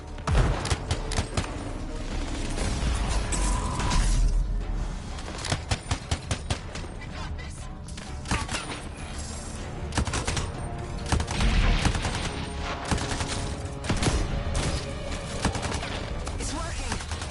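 Dense, sustained gunfire from the sci-fi shooter Anthem rattles continuously in bursts, layered with explosions and combat noise while voices talk over the fight.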